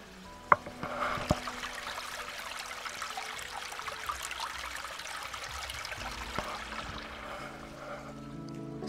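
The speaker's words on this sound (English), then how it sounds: "I'm just going to let you hear the water." Water trickles steadily along a rill running down the length of an autumn botanical garden in Visby, a continuous gentle burble with a few brief clinks near the start, heard alone without any talk.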